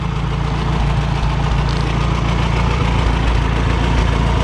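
An Oliver 660 tractor engine idles low and steady, a continuous close-up rumble with a faint knocking pulse and no talk over it.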